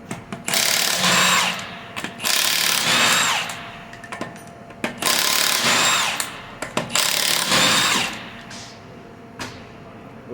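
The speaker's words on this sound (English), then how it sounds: "I'm gonna set this down for a second while I remove the other lug nuts." Bursts of a power impact tool spinning lug nuts off a Honda Odyssey wheel, four loud runs of whirring in a steady rhythm with short pauses between, close by and with no talk.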